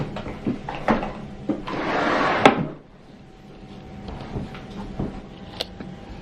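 A drawer of a makeup storage unit opens and closes with a few knocks and thumps, then a short rolling slide. Quieter scattered taps and rattles follow indoors, with no talking.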